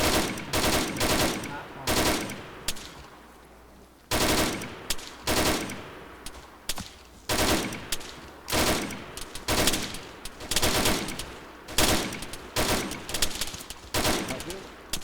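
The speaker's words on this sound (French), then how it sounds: "je vais continuer à tirer dès que j'ai fini de recharger" Bursts of automatic gunfire in the military simulation game ArmA 3, loud and close, coming in repeated volleys with short gaps between them throughout.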